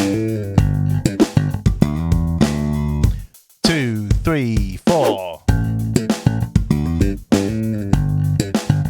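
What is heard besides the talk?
Slap bass lick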